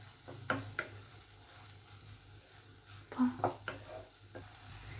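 Two and a half tablespoons of tomato sauce heat in a pan for Indian-style masala macaroni pasta, giving a steady soft sizzle broken by a few sharp scraping stirs, close up with no talking.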